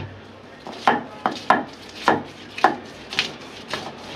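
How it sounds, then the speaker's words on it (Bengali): A knife chops green chilies and coriander leaves on a board for a Bengali lentil mash, with about eight crisp, irregularly spaced cuts, close and fairly loud, and no talking. "ধনিয়া পাতা, কাঁচামরিচ কাটতে লইছি"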